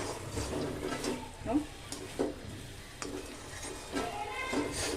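Chicken pieces stir-fried in a pan without oil, with a steady dry sizzle and repeated scraping strokes of a spatula against the pot, close and continuous.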